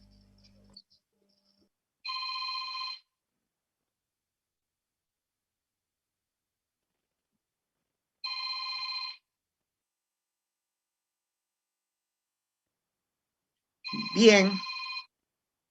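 A telephone rings in three separate bursts, each roughly a second long with long silent gaps between, in a quiet room with brief speech at the end.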